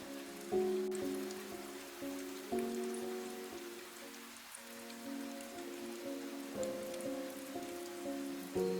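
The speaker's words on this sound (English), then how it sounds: "The ordinary rain had returned, soft and cool." Soft rain falls steadily in a woodland at dusk, a gentle continuous patter beneath a few faint, sustained musical tones.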